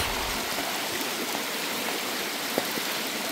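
Floodwater rushing during Typhoon Kristine: a steady, broad hiss of flowing water, fairly close and constant, with a faint low engine-like rumble underneath and one brief splash.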